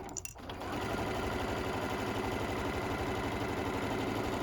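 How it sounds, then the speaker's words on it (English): An M7 sewing machine stitches a tote bag seam with a half-inch allowance, its loud continuous needle hum rising after a brief start and holding steady to the end. "We are sewing today on the M7"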